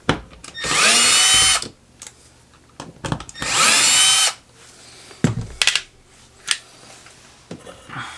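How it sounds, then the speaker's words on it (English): A screw gun fitted with a T15 Torx driver backs screws out of a Whirlpool dishwasher in two loud, sustained whirring bursts of about a second each, followed by scattered clicks and handling knocks nearby. "you will need a T15 driver, and I'm just going to use it on the end of my screw gun here."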